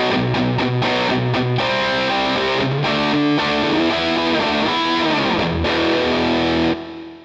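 Distorted electric guitar played through a Two Notes Torpedo Cab M cabinet simulator, loud and continuous, with strummed chords and sustained notes ringing out before cutting off at the end.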